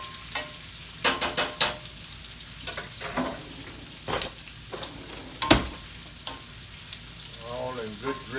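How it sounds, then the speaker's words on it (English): Onions and mushrooms sautéing in a pan for gravy, a steady sizzle broken by sharp bursts as the food is stirred and tossed, close and moderately loud with no talking. "I'm gonna saute my onions in here. And mushrooms."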